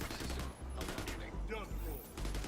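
Gunfire in The Division 2, quick bursts of automatic shots fairly close, interleaved with other game effects at moderate level.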